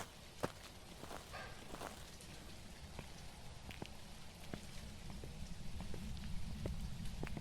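Rain falls steadily in the Phasmophobia video game, a faint continuous patter with scattered sharper drips and taps throughout.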